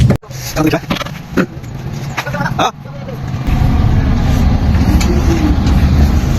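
A Volvo 200 bus engine is started during oil servicing. A few scattered clicks and knocks come first, then the diesel catches and settles into a loud, continuous low rumble close by.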